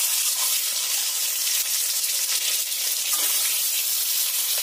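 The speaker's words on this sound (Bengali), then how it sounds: "এতে নুন হলুদ মাখিয়ে রাখা ডিমগুলো দিয়ে দেব।" Eggs coated in turmeric and salt frying in hot mustard oil, giving a loud, steady, close sizzle and crackle that holds without a break.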